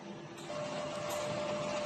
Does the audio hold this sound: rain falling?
no